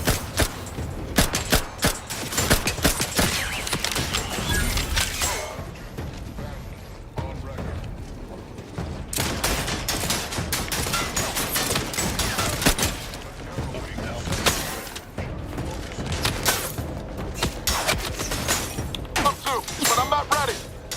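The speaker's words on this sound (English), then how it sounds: "Oh, it's a security turret." A security turret in the video game Outer Worlds 2 fires dense bursts of sharp, rapid shots with clanking impacts that continue almost the whole time, loud and close, while voices speak over the fighting.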